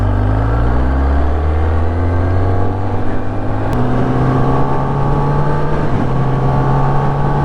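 A 2018 Kawasaki ZX10R engine drones and climbs in pitch as it revs, with brief dips where the quick shifter changes gears, loud and close with steady wind rush.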